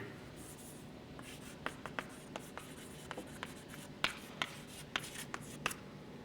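Chalk or marker writing on a board during a math lecture on hyperbolic manifolds: quiet scratchy strokes and sharp taps in an irregular rhythm, growing denser toward the end, with no talk.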